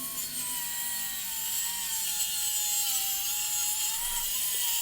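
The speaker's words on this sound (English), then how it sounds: "Set up my saw where it just barely cuts through. And then I'll cut that piece of plywood." A circular saw set to just barely cut through slices a sheet of plywood during storage shed construction on a concrete slab, a steady continuous whine held at high level throughout with no talk.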